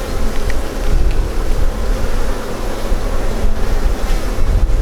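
A dense, steady buzz of Buckfast cross Welsh Black honey bees as they are shaken off a frame back into the hive box during a June inspection, loud and close with no voices.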